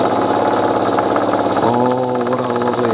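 A live steam model boat engine running steadily with a smooth, purring mechanical chug that shifts and picks up pace partway through, loud and continuous with no talk.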